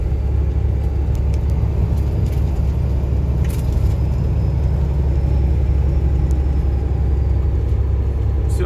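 A car driving along a road toward a town, a steady low engine and tyre rumble continuing throughout without letting up, heard from inside the vehicle with no talking.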